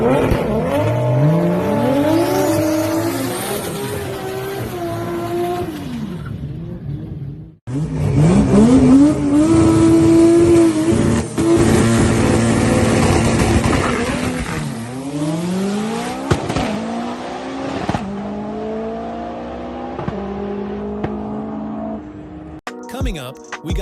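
A 2JZ-swapped Toyota truck making around 1,100 horsepower races down a drag strip, its engine revving hard through rising gear pulls and roaring loudly, with brief pauses between runs.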